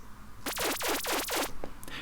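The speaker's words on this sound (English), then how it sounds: "The reason is because the LFO is affecting oscillator 1 and 2 pitch." A synth tone whose pitch sweeps up and down rapidly in about five repeated swoops as an LFO modulates both oscillators' pitch, wobbly and siren-like, fading out after a second.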